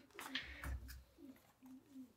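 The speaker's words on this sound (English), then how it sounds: "Listening to the pigeons outside." Pigeons coo outdoors in soft, repeated low calls, faint and distant.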